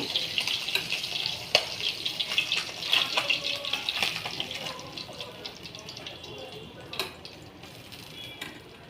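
Tangra fish sizzle and spit in hot oil, a steady bright frying hiss with scattered pops and crackles, close and fairly loud throughout.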